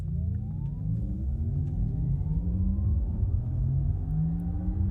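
A Porsche Taycan electric sports car in Sport Plus mode gives off a synthetic, spaceship-like drive sound as it accelerates, a steady low rumble with tones that climb in pitch, heard from inside the car at moderate volume.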